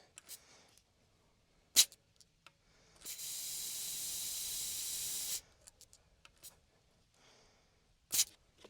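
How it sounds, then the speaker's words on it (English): Air hisses steadily out of a car tire's valve for about two seconds after a tire plug repair, a close, loud rush between sharp clicks and small handling noises. "I am gonna let a little bit of air out."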